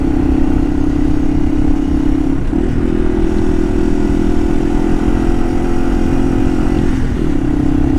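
A 2021 Yamaha TW200 motorcycle engine runs steadily with a loud, even, droning tone, briefly dipping and recovering a couple of times, with no talking.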